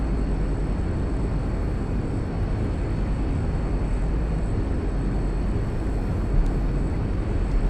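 Engines of a TU-114 airliner taxiing in Flight Simulator X give a steady, even drone with a faint high whine above it, unbroken throughout.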